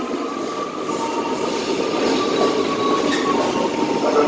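A KRL Commuterline train on the Bogor–Tanah Abang line rolls into Sudirman station, its steady rumble of wagons and wheels carrying a thin squeal throughout at close range.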